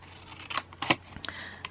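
Scissors snip through paper card in a few short, crisp cuts, close and quiet, spaced irregularly with small pauses between them.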